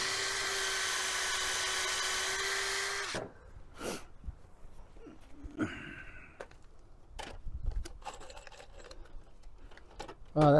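A drill with a small countersink bit drives screws into garden trellis wood: a loud, steady whine for about three seconds, then it stops, followed by scattered light knocks and handling clatter.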